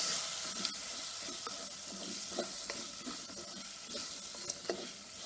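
Fenugreek upma with lima beans and sambar powder being stirred in a pan, a soft continuous sizzle under repeated scraping strokes of a spoon, fairly quiet with no talking.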